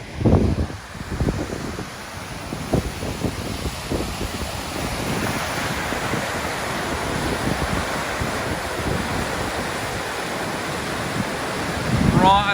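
Dynjandi waterfall in Iceland's Westfjords, heard from near its base as a steady broad rushing roar mixed with gusty wind buffeting the microphone.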